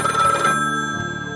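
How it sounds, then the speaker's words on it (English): A telephone bell rings loudly and close in a single burst, then its tone fades away, with no voices present. "The phone rings."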